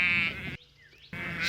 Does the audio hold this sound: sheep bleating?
yes